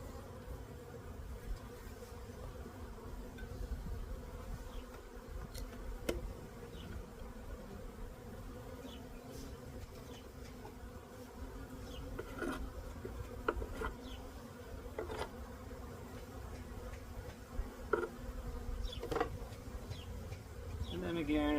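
Honey bees buzz continuously and close up while a package of bees is installed into a Layens hive, a dense steady drone with scattered light taps and clicks, no voices.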